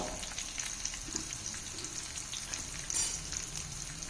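Spices temper in hot oil with asafoetida and turmeric for a mint and red chilli chutney, giving a faint, steady sizzle with a few soft pops and stirring sounds and no talk.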